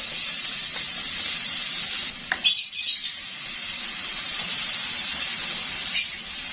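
Garlic, onion and ginger sautéing in a pan for goat papaitan, a steady close sizzle with a brief scrape or clatter midway, faint chirps in the background, no talking.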